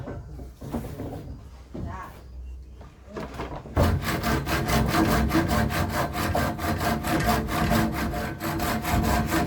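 A hand saw cuts through wood in fast, regular back-and-forth strokes, loud and close, after a few seconds of scattered rubbing and handling noises.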